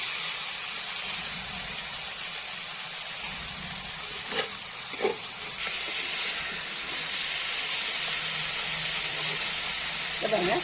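Dried seer fish coated in chilli powder sizzling in a frying pan, a steady broadband hiss that swells louder in the second half, with a few faint scrapes as the pieces are turned.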